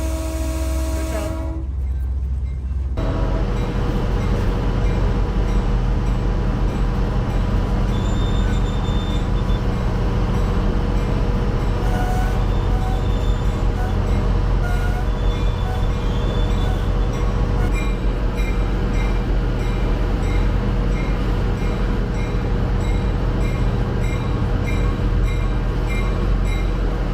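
Train rumbling along continuously with a steady mechanical drone, loud and close, after a brief quieter opening, with faint tonal squeals and no clear talk.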